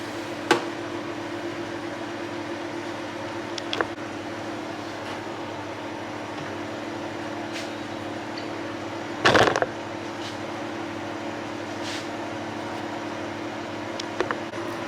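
A home freeze dryer loaded with trays of rhubarb and leek runs its cycle with a steady mechanical hum and drone, broken by occasional clicks and one brief louder burst.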